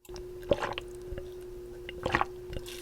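A person drinks water with a couple of soft, close gulping and swallowing sounds separated by a quiet pause.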